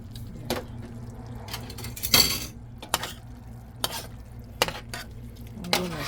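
Marinated chicken seasoned with salt and Creole seasoning gets stirred in a sizzling pan, a utensil scraping and clinking against the metal in irregular strokes over a soft constant fry.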